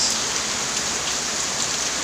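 Heavy rain pours down steadily, a dense, loud hiss of drops drumming on surfaces with no pauses.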